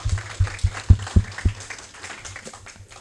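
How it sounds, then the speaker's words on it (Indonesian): An audience applauds at a campus talk at UPI Bandung, with a few distinct claps near the start that fade into a softer, scattered patter. "Tepuk tangan dong."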